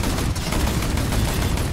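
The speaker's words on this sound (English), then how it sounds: "I'm being shot at. Being shot at lots. Lots of guns." Video game gunfire, dense and continuous, with rapid overlapping shots and bursts that stay loud and close throughout.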